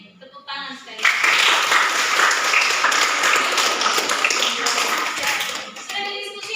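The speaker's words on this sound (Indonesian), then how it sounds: "Tepuk tangan sekali" A classroom group, students at a Christian religious lesson, breaks into loud clapping after a short voice, a dense burst of hands lasting about five seconds before speech resumes.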